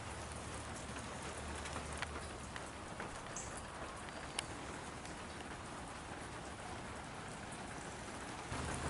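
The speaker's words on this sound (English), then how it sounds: "the rain started to fall in earnest, and we could take some quick shelter under here" Steady rain falling in earnest near the Line Hill Mound native earthworks in Ohio, a dense continuous hiss with occasional louder drops, heard from shelter with no voices.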